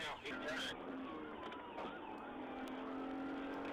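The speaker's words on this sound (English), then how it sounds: "you can hear these engines revving" Car engines rev as police and Tennessee Highway Patrol cruisers chase a suspect at high speed in the rain, weaving through traffic; a steady, loud road and engine roar with siren-like tones, and a voice briefly over it.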